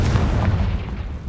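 Confringo spell explosion in Hogwarts Legacy: a deep, rumbling blast rolls out loud and close, then slowly fades over about a second, with no voices.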